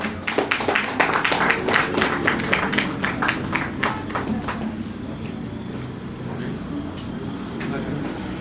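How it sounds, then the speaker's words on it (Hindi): Applause for a chief guest at a designer showcase event: dense, irregular clapping at first that thins and fades over several seconds, mixed with room murmur. "इनके लिए भी जोरदार तालियां"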